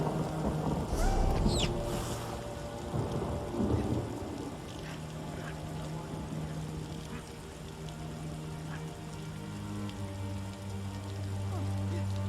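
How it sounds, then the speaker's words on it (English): Rain and thunder in a video game: a heavy rumbling thunderclap rolls in over steady rainfall, then fades as the rain patters on, with a low sustained tone beneath. "I can't abide by all this fog and rain."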